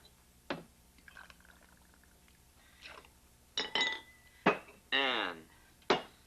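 Triple sec is poured into a cocktail shaker holding lemon juice and ice for a tequila drink. A short gurgling pour comes among sharp clinks of ice and glassware at close range.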